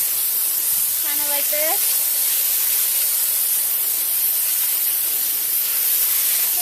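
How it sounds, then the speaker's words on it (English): A garden hose sprays water onto a layered compost pile of carbon, nitrogen and soil, making a loud, continuous broadband hiss throughout, with a short spoken phrase near the start. "we've got a hose here now, so we've been watering it down"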